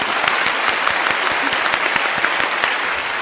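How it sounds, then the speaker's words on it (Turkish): Studio audience applauding the champion at the final of a Turkish letter quiz game show, a loud, dense burst of many clapping hands with no voices over it. "O zaman şampiyona bir alkışlar."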